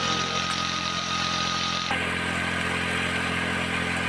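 A motorcycle engine runs steadily at idle, a loud continuous drone with a slight shift in tone partway through and no voices.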